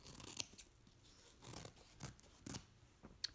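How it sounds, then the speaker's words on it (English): Scissors snipping through tulle-like material for a no-sew tutu, a handful of quiet, separate crisp cuts spaced about half a second apart, close and faint. "what we're gonna do now is just cut on one side"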